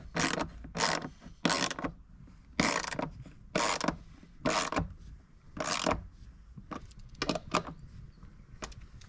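Hand ratchet snugging bolts on an Isuzu MU-X removable false floor, close-up bursts of rapid clicking in short repeated strokes with pauses between, no talking.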